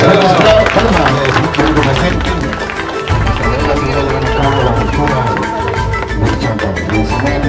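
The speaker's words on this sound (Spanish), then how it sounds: "Un aplauso." A crowd at a native community gathering in Isla de los Valles applauds Governor Luis Zucca, with dense, steady clapping that keeps going at full strength throughout.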